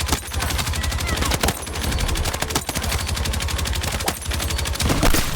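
Sustained light machine gun fire in Battlefield 6, a dense rapid stream of shots held down continuously from start to end, loud and close, with a few brief breaks as the magazine empties.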